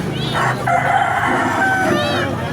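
A Boston Brown rooster crows loudly and close by at a chicken market, with a second crow starting near the end over busy background chatter and clucking.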